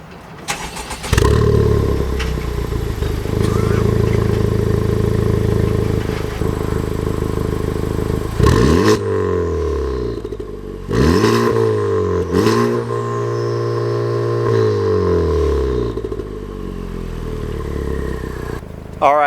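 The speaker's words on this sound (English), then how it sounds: "I'm going to do a cold start. I'm going to put the camera back there so you guys can hear what it's like starting the car" Honda Civic Type R with full bolt-on mods and a Remus exhaust, baffles closed, cold-starting: the starter catches into a loud sustained idle, then several throttle blips rise and fall under steady engine drone.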